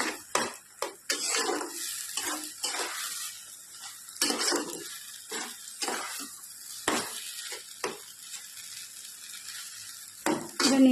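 A spoon stirs taro leaf curry in a pan with a soft sizzle, scraping in uneven bursts with short quiet gaps between strokes.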